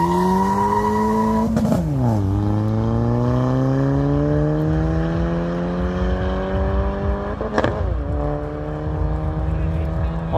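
Two sport motorcycles, a Benelli 600i and a Triumph Daytona 675, rev loudly at a drag race event, engine pitch climbing and dropping through sharp gear changes near the listener, with crowd murmur and talk underneath.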